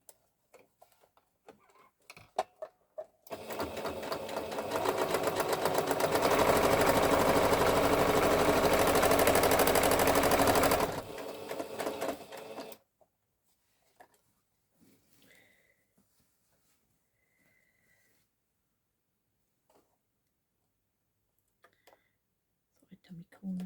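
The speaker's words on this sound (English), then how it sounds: "now I'm going to just sew around the edge, closing up the hole" A sewing machine stitches around the edge of an upcycled bag to close the gap, a loud continuous motor whir lasting several seconds between quiet stretches of small ticks and handling sounds.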